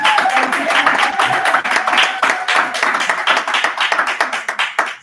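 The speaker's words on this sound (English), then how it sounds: "let's clap for him" A crowd claps together for a person at a Congolese community gathering in Ireland, a dense, steady round of hand claps that holds for several seconds before fading at the end, with a faint voice murmuring underneath.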